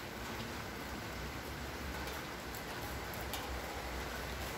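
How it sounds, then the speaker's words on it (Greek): Heavy rain pours during a strong thunderstorm in Athens, a dense, steady hiss of falling water with a constant level and no voices. "Την βροχή φαίνεται από την κάμερα."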